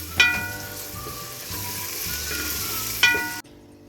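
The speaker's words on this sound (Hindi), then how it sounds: "अब इसको मैं अच्छी तरह फ्राई कर लूँगी" Steady sizzling of ginger-garlic paste frying in a hot pan, with a couple of sharp clinks of a utensil against metal, ending abruptly.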